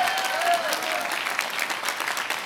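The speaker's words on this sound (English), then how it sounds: "I want you to give them all a round of applause." Audience applause at a heritage month reception, dense and continuous clapping from a crowd, brief and fairly loud.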